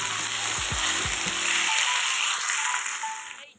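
Potatoes and slit green chillies fry in hot oil with a steady, loud sizzle and bubbling crackle throughout, while low knocks and a spoon scraping the pan sound in the first half.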